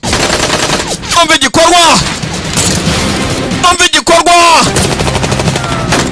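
Rapid gunfire bursts from a dubbed action film ring out twice amid loud, dense soundtrack music and effects, with a narrator's voice talking over the action.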